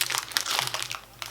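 Close, crisp crinkling of a foil-and-plastic wrapper on a McVitie's Club salted caramel biscuit as someone struggles to tear it open, in several quick bursts of rustling.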